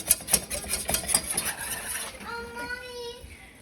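A whisk clinks and scrapes briskly in a pan for a couple of seconds as broth is added, then gives way to a softer hiss and a faint tonal whine.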